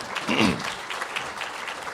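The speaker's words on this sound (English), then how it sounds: "So yes, good round of applause." Brief applause from a congregation honoring a departing committee chair, a soft burst of clapping with a voice rising briefly over it near the start.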